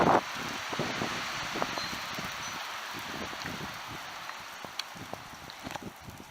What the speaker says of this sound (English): I left that for another day because the wind got going